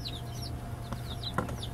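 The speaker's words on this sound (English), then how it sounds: "I have standard size chickens and bantam chickens" Standard-size and bantam chicks in a brooder, with soft repeated peeping and clucking calls scattered across the clip, close and steady over a low background hum.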